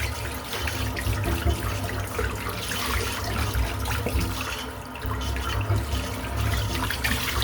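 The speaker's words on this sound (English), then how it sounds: "The water I'm using to clean the brush out right now is" Mostly cold tap water runs steadily into a sink while a shaving brush is rinsed, a continuous close splashing hiss with small fluctuations as the brush moves under the stream.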